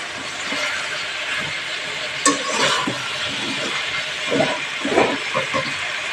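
Water poured into a pan of frying bottle gourd and spices sets off a steady, loud hissing sizzle. Soft scraping and clattering of the pan continue throughout.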